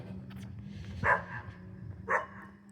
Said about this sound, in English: There's a dog barking at me.